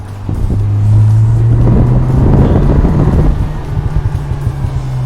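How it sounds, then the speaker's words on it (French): A car with a fully tuned exhaust revving up, a loud deep engine note rising and holding before tapering off into rumble, close and dominant with wind noise. "Ils ont clairement tuné complètement l'échappement comparé à BM"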